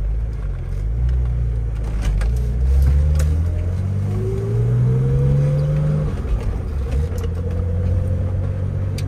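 A 1984 BMW 633CSi with a five-speed manual accelerates hard on an open road, heard from inside. The engine note climbs steadily, drops briefly at a shift, then rises again over continuous road noise.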